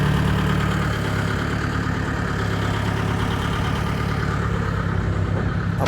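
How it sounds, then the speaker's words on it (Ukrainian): Several small tractors delivered to Zhytomyr run steadily during unloading from a truck, a continuous, loud mid-to-low engine idle with constant vibration throughout and no talk. "Ось іде вигрузка техніки."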